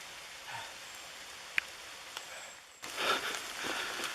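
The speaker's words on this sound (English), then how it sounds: "Under the trees, it's not raining so bad." Light rain falls under forest trees along a campsite road, a faint patter with scattered drips and one sharper drop, then a louder wash of rain near the end.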